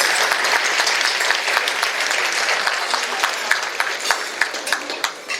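A full room at an award ceremony dinner applauds a string quartet's performance, the clapping loud and continuous, with a few sharper individual claps standing out as it tapers near the end.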